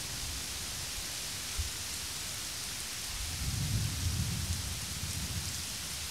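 Steady rain hisses through a film scene while a low rumble of thunder rolls in midway, swelling then fading, with a faint distant thump earlier; no voices.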